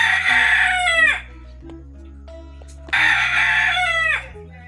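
A rooster at a yard in Jamaica crows loudly and close by, giving two long drawn-out calls separated by a short pause over a low, steady background hum.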